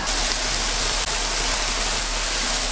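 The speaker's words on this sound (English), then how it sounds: "Now I can remove the pasta, take it out of the water." Water rushes and splashes steadily from a pot as cooked pasta is scooped out of it, a continuous close hiss with no speech.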